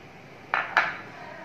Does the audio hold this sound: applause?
no